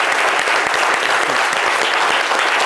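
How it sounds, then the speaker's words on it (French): Audience applause as a tribute to a guest's late mother on a live French talk show, the crowd on its feet. Dense, steady clapping fills the whole stretch at full loudness with no voices on top. "lui rendre un hommage à travers ces applaudissements"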